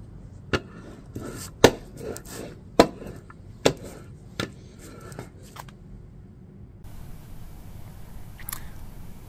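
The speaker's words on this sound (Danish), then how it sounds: "så skærer man et stykke vinyl og stryger det på, som jeg viser her" Vinyl being cut for a Cricut logo project: a series of sharp, crisp snips and chops sounding one after another, close and distinct over a quiet background, then fading into faint noise.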